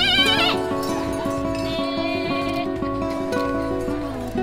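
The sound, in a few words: actors imitating sheep bleating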